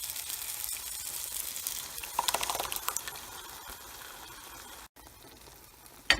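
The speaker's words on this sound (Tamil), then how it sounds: "இதில் வேக வச்ச பருப்பை ஊற்றிக்கிறோம்" Cooked lentils poured into a hot pan with sambar powder and turmeric for ven pongal give a wet sizzle and splashes, followed by quieter bubbling and a clack at the end.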